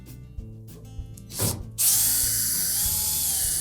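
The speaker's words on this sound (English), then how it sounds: "There are number 2 Phillips screws on both the top and the front that secure that to the cabinet." A ratchet driver backs out number 2 Phillips screws securing the top and front panels of a Samsung dryer cabinet, with a few faint clicks before a loud, steady whirring run of the driver that continues to the end.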